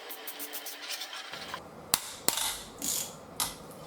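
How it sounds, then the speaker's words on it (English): Ratchet loosening the triple clamp nuts on a 2020 Yamaha MT-03 R3 motorcycle, quick bursts of clicking pawl teeth with a couple of sharp metallic knocks, close and fairly quiet. "we can loosen the nuts on these triple clamps and work on getting these forks out of here"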